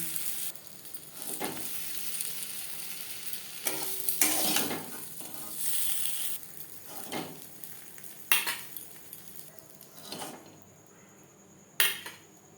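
A dried red chilli and whole cumin seeds sizzle in hot oil in a kadai for a tempering, with a steady frying hiss broken by sharp clinks and scrapes of a metal utensil against the pan.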